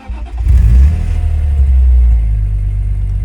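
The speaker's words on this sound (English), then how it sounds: "let's hear what the CSL sounds like" A BMW E46 M3 CSL engine starts warm with a quick rev, then settles into a deep, steady idle rumble, close by.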